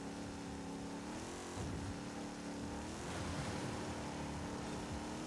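A car engine in Forza Horizon 5, a Dodge Challenger built to 450 hp, drones steadily at modest revs with a slight pitch dip and recovery, loud and continuous throughout with no talk.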